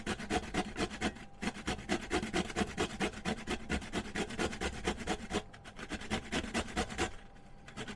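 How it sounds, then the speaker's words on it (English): Peeled burdock root scraped rapidly across a fine grater, a close, steady rasping rhythm of quick strokes with a few brief pauses between runs. "once we have that done, we're just putting it through a grater."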